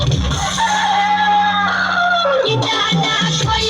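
A loud rooster crow rings out close by, a long drawn call followed by shorter clucking notes, heard over a musical backdrop.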